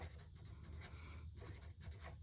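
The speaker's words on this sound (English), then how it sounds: "let's write that on there" Faint, continuous scratching of a pen or marker writing by hand on a surface, a few soft strokes close by with no talking.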